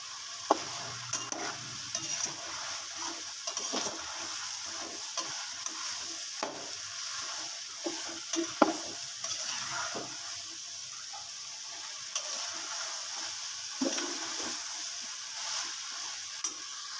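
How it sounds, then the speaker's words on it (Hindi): Potatoes and golden-fried onions with garlic and tomato sizzle in a pan while a spoon stirs them in a steady scraping rhythm, with light clinks now and then. The sound is moderately close and no one speaks. "आलू को अच्छी तरह मैंने भून लिया।"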